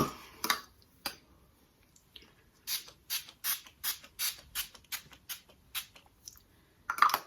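Makeup setting spray pumped from a bottle in short, crisp spritzes, one early burst and then a quick run of about nine even puffs, each close and hissy, with a brief pause between.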